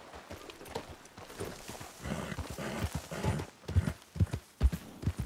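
Horse hooves clip-clopping at a quick gait in the Red Dead Redemption 2 game world, a steady rhythmic beat that grows louder and more pronounced toward the end, with faint background ambience.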